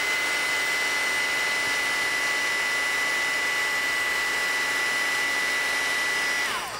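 Heat gun melting embossing powder, a constant loud whirring blower hiss with a steady high whine that holds throughout and drops off as the tool is switched off at the end.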